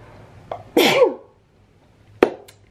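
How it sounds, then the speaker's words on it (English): A single loud human sneeze close to the mic, preceded by a short intake and followed after a pause by a sharp exhale or sniff, alone in a quiet indoor room. "I'm gonna sneeze."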